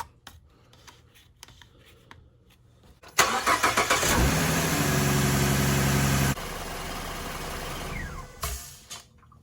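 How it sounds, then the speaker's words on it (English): A 2014 Ford Mustang engine cranks and fires up abruptly, roars briefly, then drops to a steady idle nearby, with faint clicks and handling noises before the start. "start it up, and let it warm up and check for leaks"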